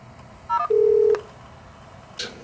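A Skype call starts on a laptop with a short burst of rising beeps and then one sustained tone, faint and close, with a soft click afterward.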